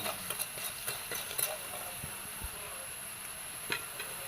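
Ginger frying in a hot pan with chana dal gives a steady sizzling hiss, broken by scattered scraping clicks of stirring, close and moderately loud.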